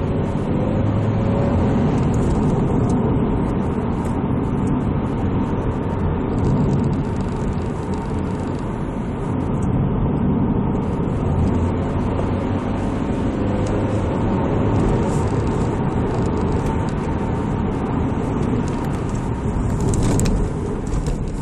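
A 2006 Vauxhall Astra SRi 2.0 Turbo with 170 bhp drives along a country road at speed, heard from inside the cabin as a steady, loud drone of engine and road rumble without pause.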